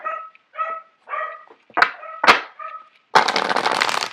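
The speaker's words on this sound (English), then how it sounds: "I apologize for the dogs barking in the background." Several dogs bark in the background indoors, a string of short separated barks and yips, then a sharp louder outburst toward the end, fairly close and clear.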